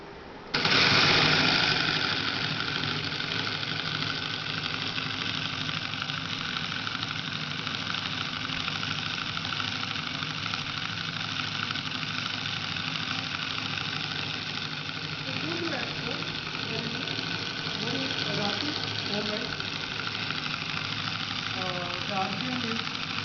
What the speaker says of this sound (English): So now I stop this engine.